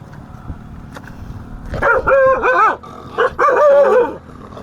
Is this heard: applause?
no